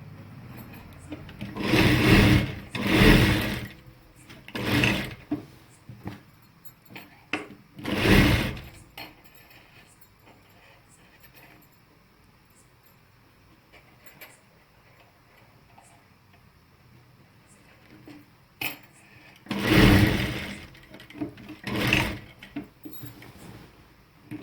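A sewing machine stitches salwar pocket pieces in short rattling bursts, several quick runs of rapid ticking early on, a long quiet gap, then two more bursts near the end.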